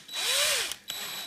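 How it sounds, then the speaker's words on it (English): A power drill boring a hole into a 12V car battery casing, its motor whining up and down in pitch for about a second, then a brief click and a steady hiss as it runs on, close and loud. "if you wrap a bit of tape around the drill bit,"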